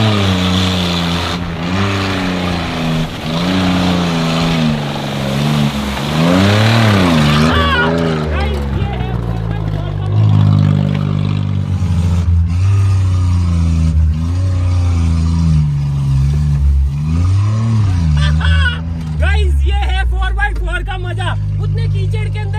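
Two cars joined into a single two-engine 4x4 drive through mud, engines loud and close, revving up and down in repeated surges, with voices talking briefly near the end.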